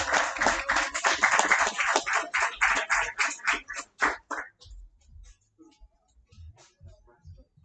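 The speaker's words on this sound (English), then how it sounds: "Give him a big round of applause." A small crowd claps for a graduate at a barber bootcamp graduation ceremony. The claps are loud and fairly rhythmic at first, then thin out into scattered, fading claps.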